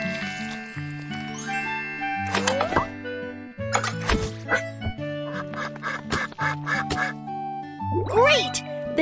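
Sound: duck quacking in video game Baby Panda's Pet Care Center

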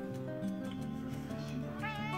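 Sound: cat meowing

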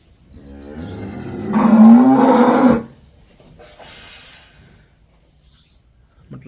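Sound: cow mooing

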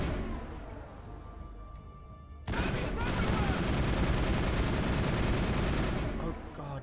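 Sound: gunfire in a firefight, from the video game Mass Effect

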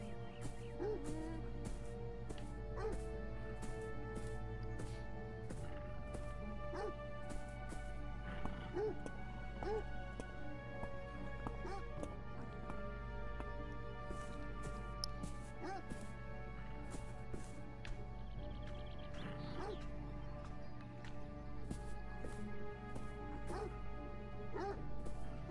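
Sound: dog barking in video game Beyond Eyes

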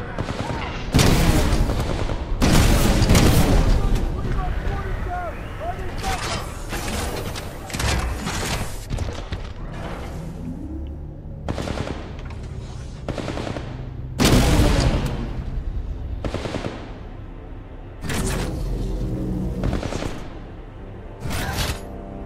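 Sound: gunfire in the video game Titanfall 2

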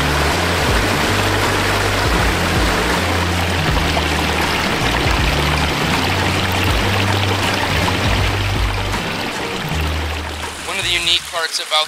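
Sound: water flowing in a backyard pond stream

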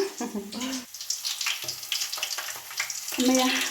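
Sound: onions sizzling while frying for chicken curry

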